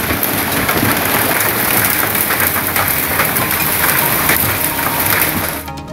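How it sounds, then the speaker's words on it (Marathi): Heavy unseasonal rain driven by stormy wind in Jalna, Maharashtra, a loud, dense, steady roar that fills the whole stretch before dropping away abruptly at the very end. "जालन्यामध्ये वादळी वाऱ्यासह पावसानं जोरदार हजेरी लावली आहे"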